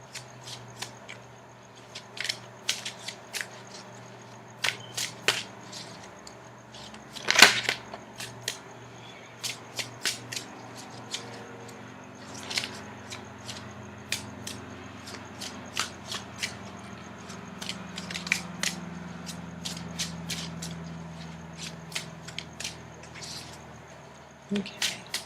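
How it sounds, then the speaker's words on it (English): Close-up riffle and shuffle of a tarot deck, with repeated crisp clicking bursts and soft flutters over about twenty-five seconds, no voices. "Now I'm going to shuffle for the outcome card."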